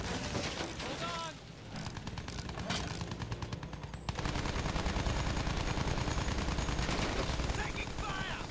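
Rapid bursts of gunfire from a Battlefield 1 match fill the scene almost continuously, dense automatic fire with booming hits and battlefield noise, fairly loud throughout.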